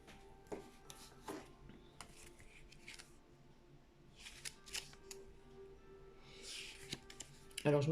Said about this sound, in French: Bon, là je ressors encore une carte comme ceci.